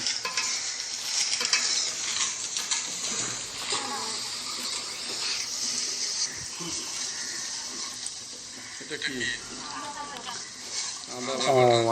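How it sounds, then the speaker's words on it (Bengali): Onions frying and stirred in a pan for a chicken roast, with a dense, steady sizzle and repeated scraping strokes, close and fairly loud, under intermittent talk. "পেঁয়াজগুলোকে সুন্দর করে ভাজতে থাকবো, সুন্দর করে ভাজতে থাকবো।"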